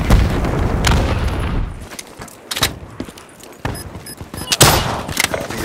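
Hellstorm missile strikes hit in Call of Duty Black Ops 3, a rumbling fusillade of booms and sharp explosive cracks in quick succession, loud and close.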